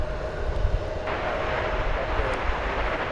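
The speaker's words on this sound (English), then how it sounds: "Oh, there's it's like a parade of planes coming down now." A passenger airplane coming in to land at DFW airport gives a steady, broad engine roar heard from a distance, constant for several seconds.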